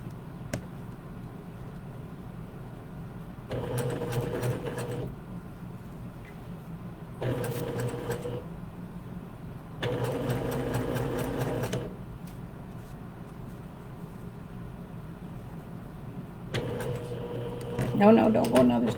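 A home sewing machine stitches a shirt in several short bursts of a few seconds each, separated by pauses. It is fairly quiet, and people talk in between.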